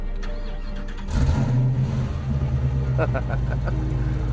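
A Hennessey Venom GT, a Lotus-based supercar, cranks and fires up at about one second, settling into a loud, steady low idle rumble with a few blips of revving near the end.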